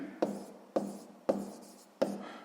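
A pen writes an answer on paper in four quick, evenly spaced strokes, each a short scratch that fades. The room is otherwise quiet.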